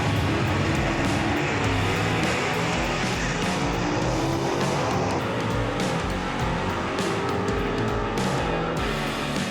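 A gasser drag race car makes a pass at Knoxville Dragway, its loud, raw engine roaring and howling steadily throughout with tire noise and crowd or track ambience behind it, close and dominant with no talk.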